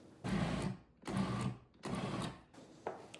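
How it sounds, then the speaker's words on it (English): A blender purees a thick chickpea hummus dip with coriander in three loud bursts of whirring motor, each cutting off briefly, followed by a quieter tail with a small knock. "we are to puree this until it's smooth"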